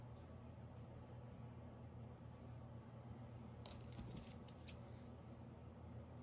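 Scissors snip through 3-ply jute twine in a quiet room, a brief cluster of sharp, close cutting clicks in the middle of an otherwise low, steady background hum.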